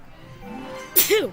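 A single sharp sneeze bursts out near the end, close and loud, after a short stretch of quiet background tone.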